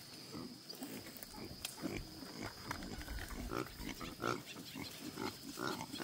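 Wild boar pigs grunting on a farm pen, a low, irregular series of snuffling grunts spread throughout, moderately faint, with steady background ambience.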